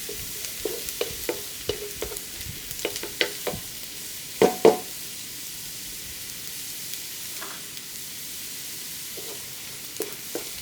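Ingredients for a vegetarian tofu noodle dish frying in a pan, a steady soft sizzle broken by a run of spatula taps and two louder scrapes midway, close and alone.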